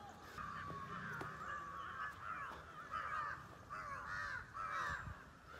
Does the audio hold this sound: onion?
no